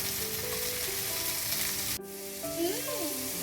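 Tomato, ginger and capsicum fry in a pan, a steady close sizzle that cuts off briefly halfway through, then resumes with scraping stir sounds.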